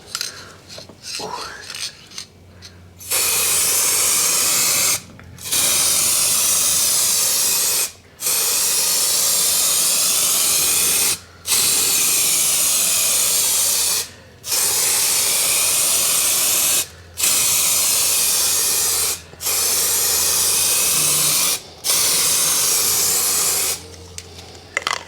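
Spray gun laying a third coat of paint on an E46 BMW 330Ci, a loud steady hiss in repeated bursts of about two to three seconds, separated by short pauses, with no talk.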